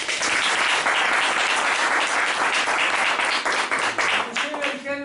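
A hall audience breaks into loud, sustained applause for a former economy minister, dense clapping that lasts throughout, with a voice beginning to speak over the tail end.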